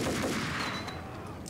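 Distant gunfire in Max Payne rumbles under a steady wash of game noise, a couple of muffled shots blending into the background.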